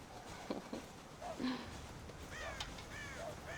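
Crows caw around a farm silo in the Red Dead Redemption game, a few faint, scattered calls rising over a quiet outdoor ambience.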